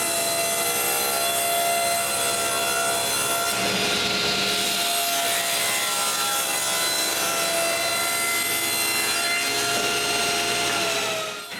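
A saw cuts through wood for the sides of two boxes, a loud, close, continuous rasping drone that holds steady from start to finish, with a brief shift in tone partway through.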